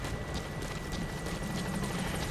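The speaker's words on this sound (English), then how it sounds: "Here it is, the helicopter." Helicopter in the video game Metal Gear Solid 5 arriving at a landing zone, a steady loud rotor thrum and whine filling the whole stretch with no talk over it.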